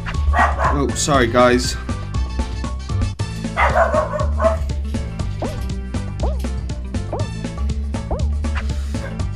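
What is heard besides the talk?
cockapoo dog barking in background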